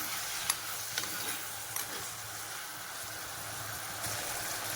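Chopped tomato with turmeric sautéing in a pan for brinjal kara kuzhambu, a soft steady sizzle and hiss with a few faint clicks of stirring, no talking.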